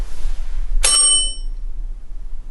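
An electronic bell on a ghost-hunting device aboard the USS Batfish submarine gives one sharp, loud metallic ding that rings out and fades within about half a second. A low background hum continues afterward.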